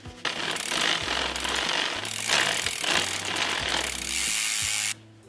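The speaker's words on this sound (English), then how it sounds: "we'll see how this does when I start pedaling it again" Cleaned and lubed bicycle chain running as the pedals turn, a close, loud mechanical whir with ratcheting clicks from the drivetrain, rising and falling in bursts before cutting off near the end.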